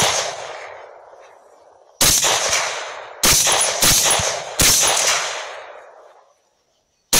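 Rifle shots fired at hogs in tall grass at night, four loud close cracks with long echoing decays, the last two in quick succession, no talk.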